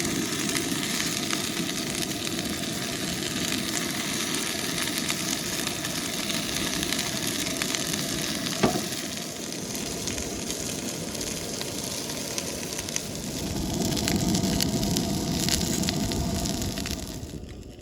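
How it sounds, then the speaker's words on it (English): Steady sizzling and crackling of food cooking on a hot surface atop a truck hood outdoors, a continuous broadband hiss that holds for the whole stretch and swells briefly near the end. "I'm just cooking right here on the hood of my truck."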